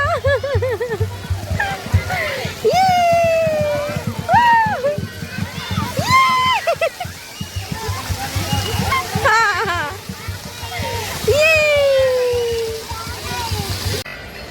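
A dancing water fountain for children splashes and sloshes steadily in a park, nearly buried under loud excited voices and chatter throughout.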